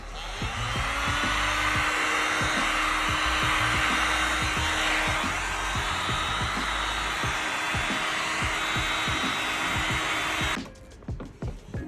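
A heat gun blows steady, loud hot air onto glue on a leather shoe sole, a constant whooshing drone with small knocks underneath, then cutting off abruptly near the end into quieter handling sounds.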